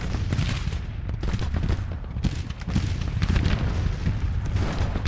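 Civil War battle gunfire in the strategy game Grand Tactician: The Civil War, with dense rolling musket volleys and booming cannon shots crackling continuously, loud and layered.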